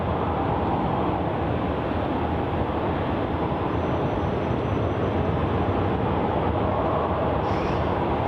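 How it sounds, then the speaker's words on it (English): Virgin Australia airliner on Virgin Flight 725 to the Gold Coast departing runway 34 at Melbourne Airport, a steady, loud broadband jet engine roar holding evenly throughout with no talk. "our next departure of runway 34 is going to be Virgin Flight"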